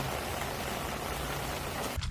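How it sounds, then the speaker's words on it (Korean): Autumn rain pattering steadily on a fishing parasol at a canal, a dense, even hiss of drops close by that runs throughout before a brief dip near the end. "낚시 파라솔에서 떨어지는 가을 빗소리 너무 듣기 좋네."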